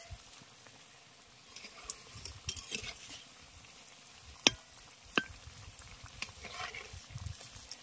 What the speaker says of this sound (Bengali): এক পিঠ একটু ভাজা হয়ে গেছে, এবার এগুলোকে উল্টে দিচ্ছি।